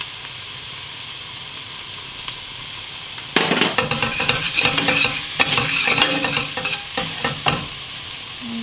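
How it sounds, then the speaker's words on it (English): Cumin powder being stirred into a frying pan with a bean burrito filling, scraping spoon strokes and sizzling starting suddenly after a quiet low hiss and continuing in uneven bursts, close up. "Stir in. Then the cumin powder,"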